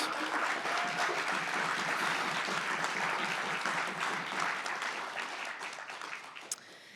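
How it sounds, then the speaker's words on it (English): Sustained audience applause at an awards ceremony, a dense crowd of clapping hands holding steady for several seconds before thinning slightly near the end, with no talking over it. "Can we have a hand of applause for that?"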